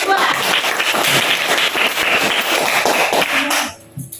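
A classroom group gets a burst of dense, close clapping from many hands, sustained for several seconds before it cuts off abruptly.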